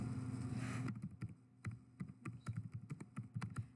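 Typing on a computer keyboard: quiet rapid clicks in an irregular rhythm following a brief stretch of low hum, close and faint, with no talking.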